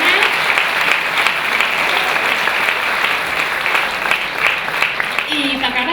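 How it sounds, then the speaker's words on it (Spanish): Audience applause for volunteers at a Spanish political gathering, a loud dense wash of clapping sustained from start to finish, with a voice faintly heard beneath it toward the end. "Un aplauso para toda esa gente que da la barra"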